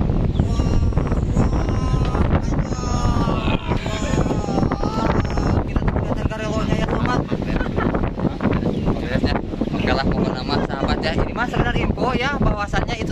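Strong sea wind gusts at a beach in Sukabumi, buffeting loudly and continuously, with voices and other sounds layered over the roar.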